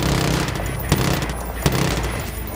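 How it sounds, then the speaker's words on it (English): Sniper and other gunfire in a tactical warfare video game, a continuous rattle of shots with two sharper, louder cracks standing out, plus faint voices in the mix. "We're taking sniper fire from multiple directions."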